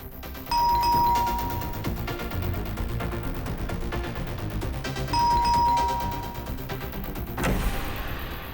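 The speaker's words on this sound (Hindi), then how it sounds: "कितना घंटी बजाते हो?" A house doorbell chimes twice, about five seconds apart, each a clear ding-dong ringing over steady background party music, in a crime-drama scene.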